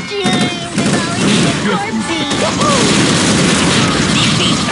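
Rapid gunfire and explosions from Unreal Tournament 2004 team deathmatch with ballistic weapons, loud and continuous bursts crowding the whole clip, with a voice shouting over the shots.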